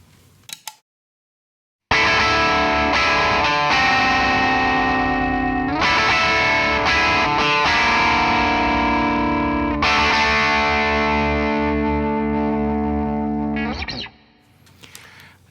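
Electric guitar through a Dirty B Hinds Mastodrive overdrive pedal, a guitarist's signature unit, into an amp's clean channel: loud sustained chords ring out in several strummed phrases, with a short pick noise before and a fade at the end.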